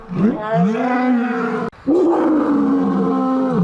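A loud, close lion roar with deep rising and falling groans, a short break, then another long roar.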